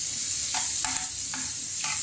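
Macaroni fries in a generous amount of oil in a pan, giving a steady hiss. Several soft scraping strokes of a spoon come through at fairly regular intervals, and no one speaks.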